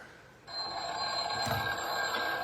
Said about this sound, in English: Oh, the phone's ringing. The old-timey phone's ringing.